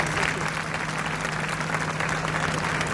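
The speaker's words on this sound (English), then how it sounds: "can I have a shared round of applause" An audience at the launch of Yuval Noah Harari's book Nexus claps in a dense, steady round of applause that stays at an even level throughout.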